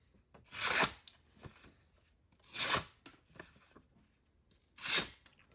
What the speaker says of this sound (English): Seems like it's tearing them when it's cut